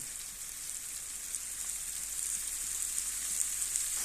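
Spinach greens dropped into hot spiced oil in a pan give a steady, close hiss of sizzling that holds for several seconds and grows slightly louder, with no voices.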